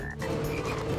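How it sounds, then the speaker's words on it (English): A frog croaks in the Katamari video game, a single continuous croaking call lasting about a second, fairly loud and alone. "Look at that frog."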